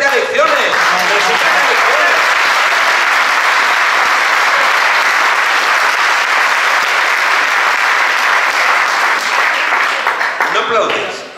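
Sustained, loud applause from an audience at a political rally in Torrelavega, steady clapping filling the whole stretch before fading slightly at the end.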